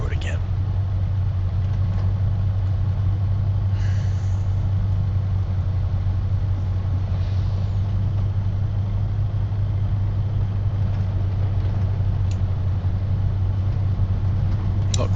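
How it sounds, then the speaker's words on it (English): Steady low tractor engine hum heard from inside the cab in Farming Simulator 25, a constant droning rumble running unbroken throughout with little else over it. "I don't hear my engine running. Just a hum."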